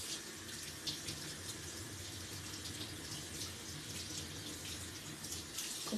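Hot water runs steadily from a sink tap, a continuous close splashing hiss with no talk over it.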